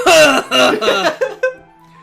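A character in Doki Doki Literature Club coughs several times in quick succession, harsh and close, trailing off into a final weaker cough.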